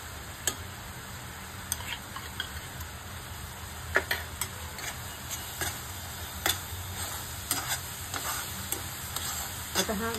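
Mango pulp and coconut mixture cooks in a pan over low heat, giving a soft continuous sizzle broken by regular clicks and scrapes of a spoon stirring it nearby.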